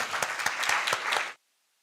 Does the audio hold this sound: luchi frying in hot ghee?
no